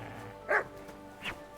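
A dog in the medieval game Kingdom Come Deliverance II gives two short, fairly faint barks about a second apart over a quiet hum of game ambience.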